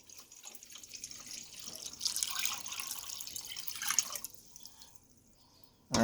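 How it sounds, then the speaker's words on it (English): Ice-cold water pours steadily into a container, a rushing splash that swells, changes pitch as it fills, then stops abruptly; no talking. "we're now ready to add our nice cold water to this"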